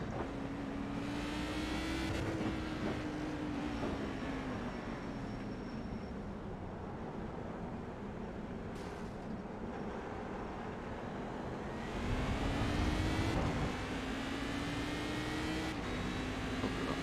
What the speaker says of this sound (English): We're going to launch early, just try and maximize this lane we have, and then we'll be off to the races